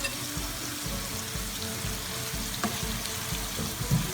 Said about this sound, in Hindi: तो मैंने हल्का सा बस सौते करना है